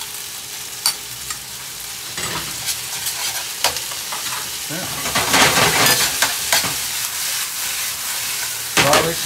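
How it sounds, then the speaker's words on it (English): Garlic fries in a hot pan for a sautéed chicken thigh dish, giving a steady hissing sizzle with louder bursts as it is stirred, close and fairly loud. Brief speech is heard. "Next step, I'm gonna put the garlic."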